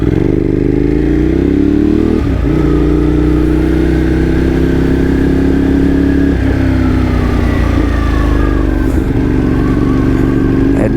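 A Ducati V-twin motorcycle engine cruising through neighborhood streets, a loud, close, steady throaty rumble with a few gear shifts and slight rises and dips in revs.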